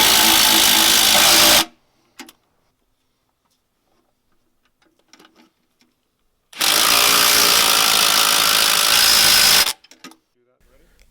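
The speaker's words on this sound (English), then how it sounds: "Install the anchors with a low torque hammer drill to prevent stripping." A low torque hammer drill installs anchors for a security lid in two loud, harsh bursts of a few seconds each, separated by near silence with faint handling clicks.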